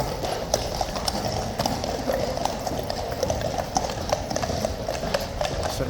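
Hooves of a runaway horse at Horse Guards clip-clop steadily on hard ground, a brisk continuous rhythm of close, fairly loud strikes with no voices.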